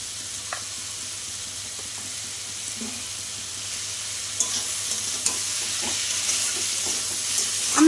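Elephant foot yam stalks frying in a pan over medium heat, a steady soft sizzle with occasional faint stirring scrapes, no talking.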